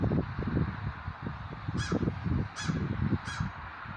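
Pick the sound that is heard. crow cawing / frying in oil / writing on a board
crow cawing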